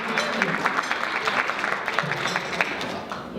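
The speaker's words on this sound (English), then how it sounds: "So give yourself all a huge round of applause." Guests at a ladies' charity luncheon give a sustained round of applause, an even, dense patter of many hands clapping at moderate volume, heard from within the room.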